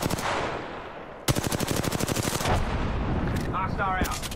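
Automatic weapon fire in Apex Legends, a quiet opening followed by loud, rapid bursts of close gunshots in a dense rhythmic stream, with brief rising whistling effects near the end.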